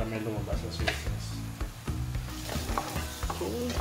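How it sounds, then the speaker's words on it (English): Chopped onion sizzles and caramelizes in a hot pan while being stirred, a steady frying hiss with scraping stir strokes throughout, close and fairly loud, with a person talking over it. "medyo nagkakaramelize na yung onion for quite some time"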